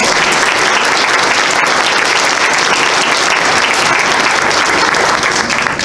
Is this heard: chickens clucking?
no